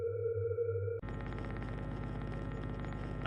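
In the horror game I'm On Observation Duty 6, a distortion triggers a music effect: a steady tonal drone cuts abruptly into a dense, pulsing, buzzing wash of distorted sound that continues loud to the end.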